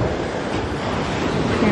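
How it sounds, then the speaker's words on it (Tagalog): Ocean waves crash and surge in a steady, loud broadband roar, close by and continuous with no pauses. "So scary waves. Ang lakas ng alon."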